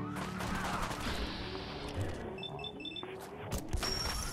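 Rapid bursts of gunfire from a modded weapon in Fallout 4 crackle close and loud, mixed with impacts, beeping tones and clattering game effects.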